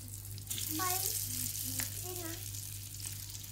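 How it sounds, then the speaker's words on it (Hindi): Pethi laddu double frying in hot ghee for a Lahori street-food recipe, a steady close sizzle with broadband hiss throughout and a low hum underneath, with brief voice-like tones rising over it. "इनको डबल फ्राई करने के लिए घी में डालने लगी हूँ"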